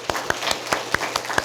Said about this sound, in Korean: 우리 하나님께는 영광의 박수, 우리 가족들에게는 감사의 박수를 드리겠습니다.